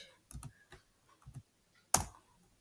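Commands being typed on a computer keyboard indoors, a few sparse, close keystrokes in small clusters followed by one sharper, louder key press.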